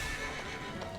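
Horse neighing and whinnying inside Dragon Quest XI S, mixed with clip-clopping hooves, a brief, fairly loud burst that carries on steadily without pause.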